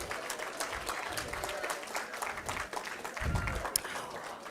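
An audience at a school reading competition applauds the third place winner, steady clapping filling the whole stretch with a louder swell near the end, mixed with some crowd voices.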